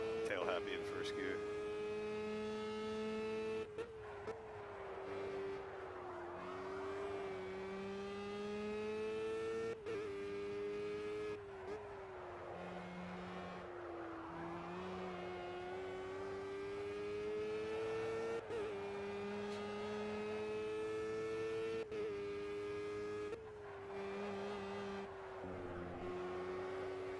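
Formula Gulf 1000 race car in Project Cars at Zolder, its engine droning loudly and continuously with shifting pitch through gear changes, steady from start to finish with faint speech underneath.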